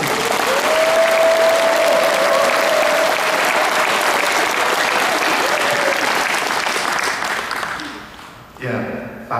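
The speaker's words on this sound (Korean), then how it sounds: "우리 모두를 위해서 박수 한번 드리겠습니다" Sustained applause from a large crowd at a Catholic Mass, loud and steady, with a faint tone gliding underneath, then tapering off near the end.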